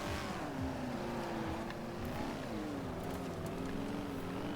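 A Ferrari 599XX Evo in Forza Horizon 4 accelerates hard on a circuit, its engine note rising in a loud, steady second-gear pull with a dip at a shift, continuous and close throughout.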